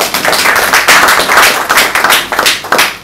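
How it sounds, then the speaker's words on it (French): An audience claps for Madame Esther, the administrator, at a presentation of the new i Chroma technology. The clapping is loud, dense and close, and keeps going for about three seconds with uneven swells. "Il faut l'applaudir."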